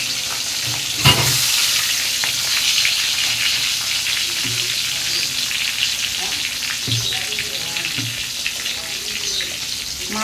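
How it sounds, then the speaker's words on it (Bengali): Pieces of catla fish fry in hot oil in a wok, a steady crackling sizzle running throughout with a few louder spatters and stirring knocks close by. "মাছগুলো ভেজে তুলে নেবো আমি"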